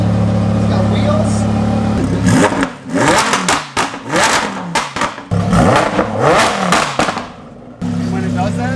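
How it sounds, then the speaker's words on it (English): A GMC Denali truck on 26-inch wheels idles with a steady low drone, then is revved hard several times in quick surging bursts before settling back to idle. "I hear a car running."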